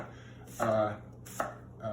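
A knife chops through onion on a board in a few crisp, separate strokes, close by.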